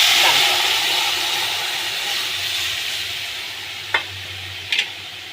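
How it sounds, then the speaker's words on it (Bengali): Tempering spices go into boiled masoor dal made with chopped garlic and set off a loud, steamy sizzle that fades slowly, with a couple of sharp utensil clinks near the end. "এইবার আমি ফোড়নটা দিয়ে দিলাম।"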